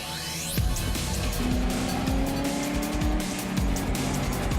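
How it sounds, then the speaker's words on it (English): A Lotus race car loses grip exiting a hairpin and spins right around, its tires letting out a loud, sustained squeal over the engine's roar as other racing cars pass nearby. "has a bit of a moment exiting the hairpin, and unable to hold it, spins his Lotus right around."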